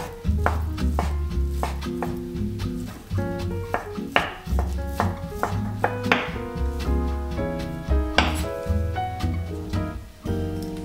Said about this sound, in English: Now prepare the salad, starting by cutting the ham.